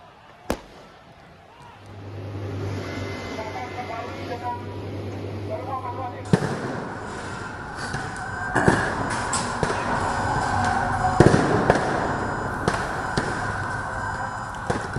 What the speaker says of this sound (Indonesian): Aksi ini dibalas dengan lemparan kembang api dari pendemo.